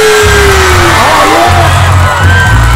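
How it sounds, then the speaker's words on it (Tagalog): At a festival concert for the Bangus Festival in Dagupan, Pangasinan, a large crowd cheers and whoops loudly and continuously, with yells rising over a steady wash of noise and deep thumping from the sound system. "bigyan po natin ng malakas na palakpak"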